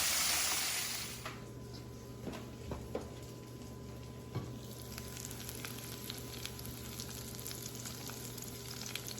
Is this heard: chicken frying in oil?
yes